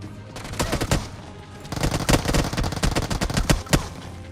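Rapid automatic gunfire from the BGMI battle royale game, with dense bursts of shots crackling in quick succession and growing heavier and more continuous in the second half, with no talk over it.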